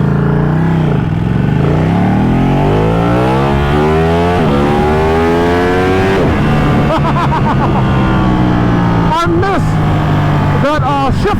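A 2013 Ducati 1199R superbike engine revs hard and accelerates through the gears, heard loud and close as the pitch repeatedly climbs and drops between shifts.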